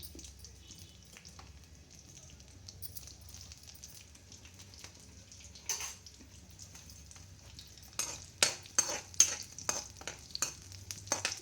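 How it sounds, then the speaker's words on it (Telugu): Mustard seeds, cumin and onions fry in a little oil for a ridge gourd curry: a soft, steady sizzle runs under close spoon scrapes that grow louder and more frequent toward the end, with no talking. "నూనె ఎక్కువ వేసుకోకుండా ఆవాలు, జీలకర్ర వేసుకున్నాం,"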